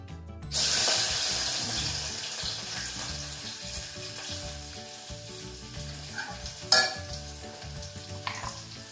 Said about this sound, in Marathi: हे कांदो आणि लसूण फोडणी घेते बघा